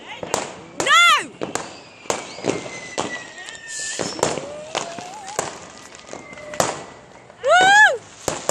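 New Year fireworks going off, with sharp bangs and pops scattered throughout and rising whistling shells, while excited voices shout and react between the blasts.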